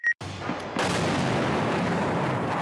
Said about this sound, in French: Cette explosion a lieu dans le centre de Kiev